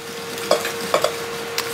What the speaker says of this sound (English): Right, again, I'm going to stir,